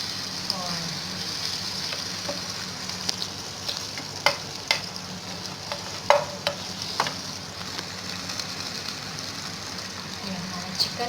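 Butter sizzles in a pan while chicken masala is being made, a steady close frying hiss with scattered pops and crackles running throughout.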